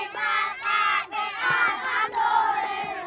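A group of children outdoors at a fishing village on Jakarta's northern coast does a rhythmic spirit clap. Their shouted chant comes in short bursts with claps mixed in, loud and close, with brief pauses between phrases.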